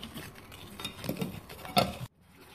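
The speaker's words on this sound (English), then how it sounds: "That's around one cup of paint. Okay. And we're going to mix it." Paint being stirred in a container, about a cup of it, for a DIY outdoor kids' blackboard, giving scraping, clinking strokes at close range for about two seconds before the sound cuts out.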